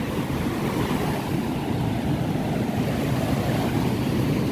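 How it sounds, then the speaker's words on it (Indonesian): Big sea waves roll in continuously at Pacar beach in Tulungagung, a loud, steady roar of surf mixed with wind buffeting the microphone. "tapi ya bahaya ya karena ombaknya besar."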